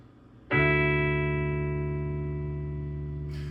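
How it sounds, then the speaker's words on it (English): A single strum across open electric guitar strings in drop D tuning rings out and sustains, decaying gradually over several seconds. "Now when we play our guitar, it sounds like this with the open strings"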